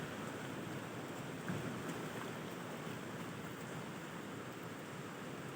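Swollen Marikina River floodwater during a typhoon, a loud, continuous broadband rush of water with no pauses, heard close by.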